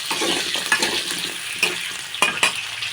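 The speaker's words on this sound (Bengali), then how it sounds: "এখন আলুগুলো ভেজে নেব।" Potatoes fry in hot oil in a kadai, a close crackling sizzle broken by a few louder scraping stirs near the end, with no one talking.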